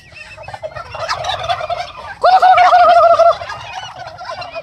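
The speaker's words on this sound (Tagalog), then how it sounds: "So unti-unti nang lumalaki yung aking mga hybrid turkey ngayon." Five-month-old hybrid turkeys gobbling on a farm, a loud close burst of rapid warbling gobbles rising over a steady background of other birds calling.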